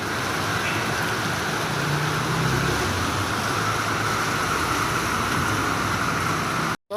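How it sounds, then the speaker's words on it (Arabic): Heavy winter rain with thunder and lightning pours down in a constant dense hiss, with a low roar beneath, cutting off abruptly at the very end. "شتاء ورعد وبرق"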